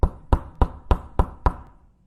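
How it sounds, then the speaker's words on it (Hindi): Six firm, evenly spaced knocks rap on the wooden door of a house, loud and close, each with a short ringing decay before silence. "वो लड़का अगले दिन सुबह सुबह ही नंदू के घर का दरवाजा खटखटा देता है।"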